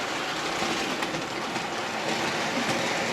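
A kit-built OO gauge 3-rail model train, a 2P locomotive, runs steadily around a layout, giving a continuous close whirring rumble with faint wheel clatter throughout and no voices.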